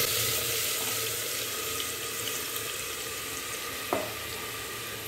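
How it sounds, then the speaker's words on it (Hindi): Ground tomatoes hit a hot pan while making Sindhi-style methi aloo sabzi, giving a steady, even hiss of sizzling that carries on at moderate volume with a small clink partway through and no talking. "अब मैं इसमें पीसे हुए टमाटर डाल"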